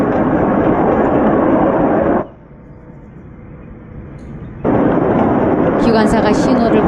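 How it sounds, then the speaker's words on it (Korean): A train approaches with a loud, dense roaring rumble that suddenly drops to a quieter murmur for about two seconds, then surges back at full strength, with a faint high whine near the end. "다른 쪽에서 기차가 다가오는데"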